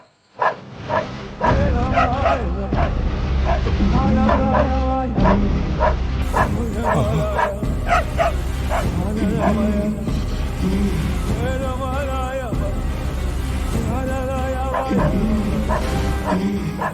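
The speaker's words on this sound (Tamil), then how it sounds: "தெருநாய் விடாம குலைச்சிக்கிட்டே இருக்கு." A stray dog barks repeatedly and persistently, sharp yaps and whimpering yips coming in irregular bursts over a busy background with some voices mixed in.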